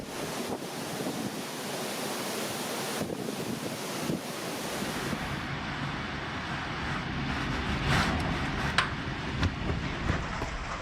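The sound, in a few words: Hurricane Matthew wind and waves striking the Bahamas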